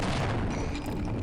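A heavy, booming blast from the magnum revolver in Half-Life, loud and close, filling the brief moment with a dense, rumbling roar.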